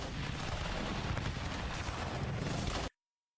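A rapid, dense barrage of heavy mechanical-fist impacts from a Gatling punch in VRChat, loud and continuous like automatic gunfire, cutting off abruptly near the end.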